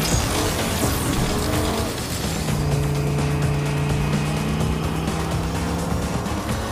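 An enemy vehicle drives in the video game Agents of Mayhem, played on Xbox Series X/S. A steady engine roar holds throughout, with rising and falling motor tones as it speeds along at close range.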